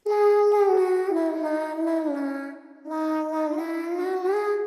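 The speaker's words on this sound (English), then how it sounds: "Kashmir 85 vocal loop vintage nursery rhyme" A looped vocal sample in C-sharp minor with an old-time, nursery-rhyme feel: a voice sings a smooth melodic line in two phrases, separated by a brief dip.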